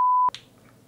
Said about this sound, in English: Bleep. Yeah, bleep.